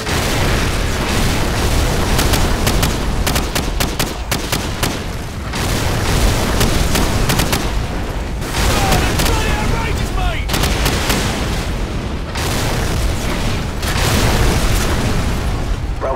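Artillery fire mission in Call of Duty 4: Modern Warfare, danger close, with continuous heavy booms and rolling explosions, loud and near, mixed with crackling gunfire throughout.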